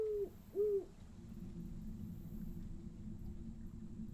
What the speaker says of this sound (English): An owl there.